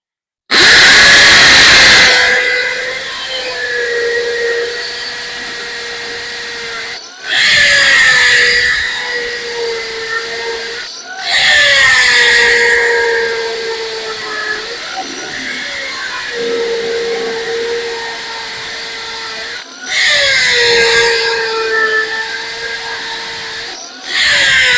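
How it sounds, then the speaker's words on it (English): A hammer drill whines loudly in several long bursts with short pauses between, its pitch dipping as it bites into material while installing a railing. "This is that hammer drill I've done a review on before."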